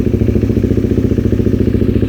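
A KTM 390 motorcycle engine idles close by, a steady rapid chugging pulse with a slightly uneven beat, running on its own with no talking.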